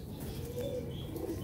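Domestic pigeon cooing in a steady low warble, close and fairly quiet, with a faint chirp above and no talking.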